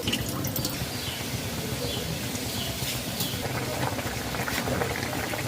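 Lentil dish with bottle gourd simmering in a pot, a steady bubbling and sizzling with scattered drips and splashes as water goes in, continuous and close throughout.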